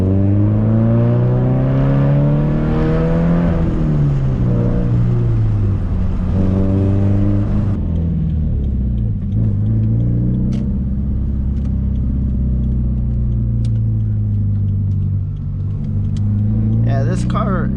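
Manual car revving through downshifts during a casual drive, the engine rising and falling in pitch with loud rev sweeps, then settling into a steadier drone while a person talks over it.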